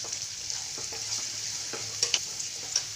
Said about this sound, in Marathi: हे छान मसाले आहे ना तेलामध्ये परतून घेऊ आपण